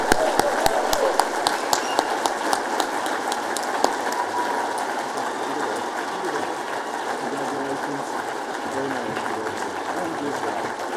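An audience in a large room applauds scholars at an annual scholarship celebration: dense, sustained clapping with a few sharp individual claps standing out early, holding steady throughout.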